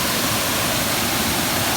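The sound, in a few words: waterfall in Karura Forest, Kenya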